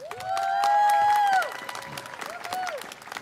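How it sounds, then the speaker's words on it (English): An audience at a graduation ceremony applauds families and friends, steady clapping from a crowd. Loud whistles and cheers cut through, and a sustained tonal sweep like a noisemaker sounds near the start, fairly close. "Let's give them a big round of applause, please."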